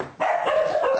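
Two dogs bark in a short, close burst of excited yips and barks lasting under a second.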